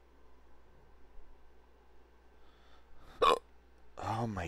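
Burping during a session of the shooter Insurgency: one short, sharp gulping burst after a quiet stretch, then a longer, louder belch-like sound with voiced quality, close and alone over low background noise.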